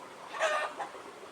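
Chickens cluck in a short, busy burst as a flock comes running toward people on a rural Kerala path with rain approaching, the calls overlapping near and moderately loud before fading off.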